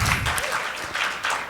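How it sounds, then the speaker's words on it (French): A crowd applauds warmly and continuously, dense clapping filling the whole short moment as a guest is welcomed on stage. "On peut l'applaudir."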